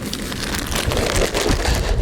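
Steady rain falling outdoors at an allotment in December, a dense continuous patter close by with no voices.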